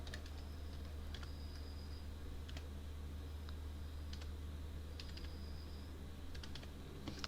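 A prompt is typed on a computer keyboard, quick irregular bursts of light key clicks close up over a low steady hum, with no speech.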